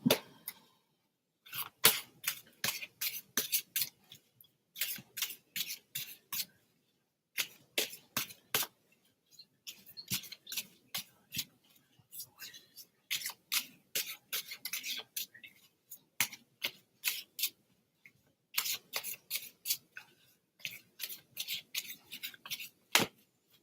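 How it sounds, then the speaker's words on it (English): Rapid bursts of crisp riffling and flapping from shuffled playing cards come in several clusters with short pauses between them, close and fairly quiet, with no talking. "Shuffle these cards up."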